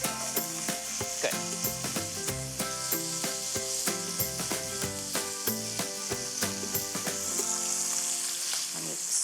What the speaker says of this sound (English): I'm going to stir my sausages here.